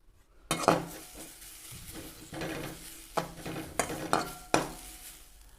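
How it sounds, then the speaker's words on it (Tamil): Grated coconut roasting in a pan, stirred with a utensil: soft scraping and rustling broken by several distinct knocks and clatters of the spoon against the pan, close by and without speech. "அதே பாத்திரத்தில் நம்ம எடுத்து வச்சுருக்கிற தேங்காயை வறுத்து எடுத்துக்கலாம்"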